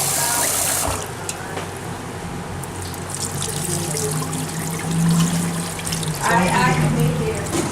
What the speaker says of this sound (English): First thing we do is we wash it. Rinse the rice.